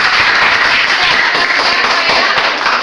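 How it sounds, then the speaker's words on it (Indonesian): A classroom of students applauding after a group presentation, loud, dense and continuous clapping filling the whole stretch with voices blended in. "Oke, berikan tepuk tangan."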